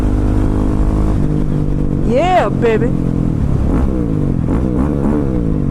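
A supermoto motorcycle engine idles steadily, then revs up sharply twice, with a voice speaking briefly over the rumble.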